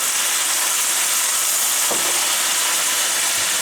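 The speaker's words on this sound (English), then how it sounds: "then we're going to add about a 1/2 cup of white wine" White wine poured over clams in a hot pan gives a loud, steady hiss and sizzle of steam throughout, with a faint clink partway through.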